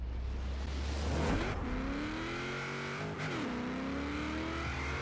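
A race car in the Forza Horizon 4 video game launches from the start, its engine revving hard and climbing in pitch through two quick gear shifts, loud and close with a touch of tire noise.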